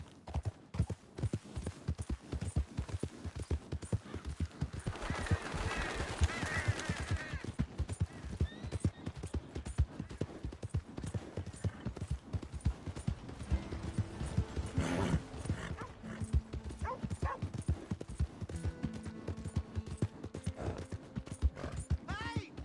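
Horse hooves clip-clop in a steady, rapid rhythm throughout a stretch of video game play on PS4, close and continuous, with a burst of wind-like noise and occasional voices and game sounds layered over the hoofbeats.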